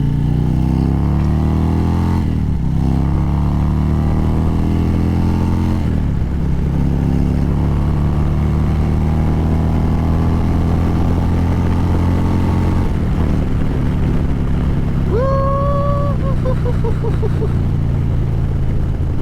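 An Indian ThunderStroke 116 motorcycle fitted with a Lloydz 585 cam rides along, its low engine drone rising and falling through gear changes, with steady wind rush throughout and a brief higher whine near the end.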